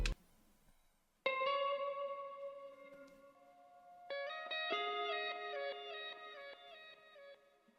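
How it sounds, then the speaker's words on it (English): Electric guitar filler notes ring out with echo and effects, a few sustained tones followed by a busier run of shimmering, delayed notes, clear and alone. "I added some more filler notes with the guitar just to keep it moving"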